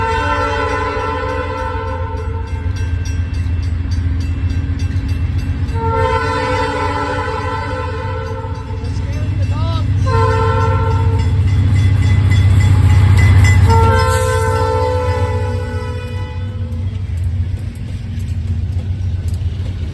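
A freight train led by two B40-8 locomotives and a GP40-2LW rolls past near Ayer, Massachusetts, with a steady loud rumble, engine drone and wheel noise, and a sustained horn blast midway.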